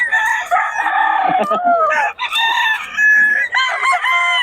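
Several gamecock roosters crow loudly in overlapping calls, with clucking between crows, close by and continuous throughout.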